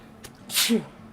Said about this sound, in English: I've been sneezing so much lately.